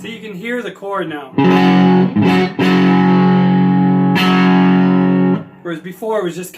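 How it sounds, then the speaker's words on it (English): Electric guitar fitted with a new GFS neck pickup, strummed chords ringing out loud and sustained with distortion and effects, two long strummed passages between brief bits of talk at start and end. "So you can hear the chord now."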